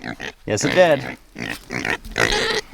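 Pigs grunt and snort nearby in rough bursts, mixed with a person speaking briefly.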